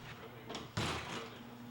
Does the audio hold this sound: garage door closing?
yes